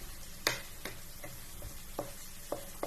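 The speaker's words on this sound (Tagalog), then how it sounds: "kumukulo na siya" Quiet sizzling and bubbling of meat simmering for igado in a pan, with occasional sharp clicks and taps of a utensil against the cookware.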